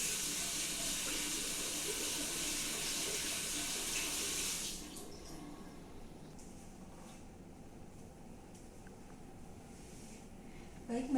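Hands are washed under a running tap before a range-of-motion exercise session: a steady, close hiss of water flows for about four seconds, then cuts off, leaving quiet room sounds.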